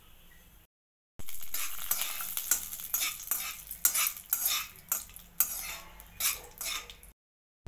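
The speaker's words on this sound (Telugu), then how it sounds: "ఇందులోకి మనకు కావాల్సిన డ్రై ఫ్రూట్స్ వేసి వేయించుకోవాలి." Dry fruits frying in ghee and oil while a spoon stirs them, giving a steady close sizzle broken by repeated scraping and clinking strokes against the pan, with no voices.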